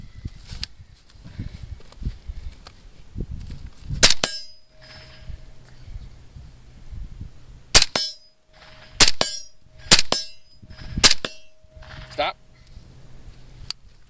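Five suppressed rounds fired in quick succession, each a sharp loud crack with a metallic ring, spaced roughly a second apart after a first shot, with quieter rustling and handling noise between.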